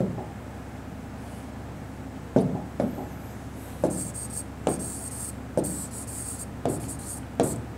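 Handwriting a chart for a Hindi-medium class 11 physics lesson on elasticity: steady pen scratching with a series of sharp taps and strokes, close and clear, no talk over it.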